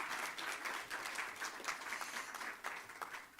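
A crowd applauding steadily at an annual general meeting in Johannesburg, dense overlapping claps throughout, fairly loud and continuous with no talking.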